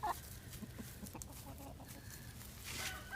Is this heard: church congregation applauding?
no